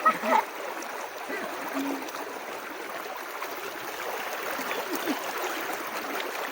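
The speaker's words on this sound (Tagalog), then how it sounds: "nandito na kami guys sa ilog" A river stream flowing through a forest, a steady broad wash of running water with small splashes, fairly close and continuous throughout.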